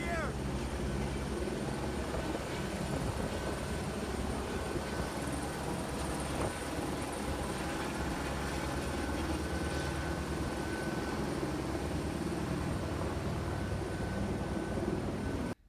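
Rescue helicopter during a mountain air rescue of an injured hiker, its rotor and engine drone steady and loud throughout, with wind and faint voices underneath.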